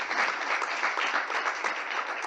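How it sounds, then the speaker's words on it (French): An audience at a mutual-association forum on inclusive sport applauds for Marc, a full, steady round of clapping from many hands that carries on without pause. "Applaudissements pour Marc."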